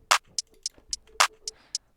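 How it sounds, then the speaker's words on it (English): An FL Studio drum pattern pairing a clap with hi hats: short crisp hi-hat ticks tick along at a steady pace, and two louder, broader clap hits land among them, dry and close with no other instruments. "So I start with a clap and the hi hat."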